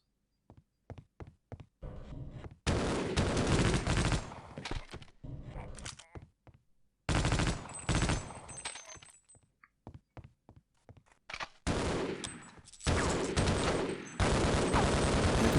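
Bursts of rapid weapon fire in Half-Life: Opposing Force, a few single shots at first, then long sustained volleys of loud, dense gunfire with brief gaps between strings of shots.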